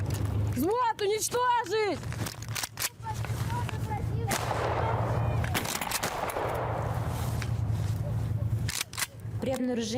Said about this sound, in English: Platoon, fire!